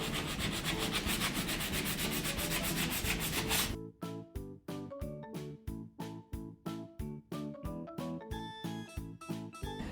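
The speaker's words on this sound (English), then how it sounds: "we're going to take our block sander to sand the edges and the top and the front nice and smooth." A block sander works the edges of a wooden bird doorstop: continuous dense scraping first, then rhythmic back-and-forth strokes, close and steady, about two per second.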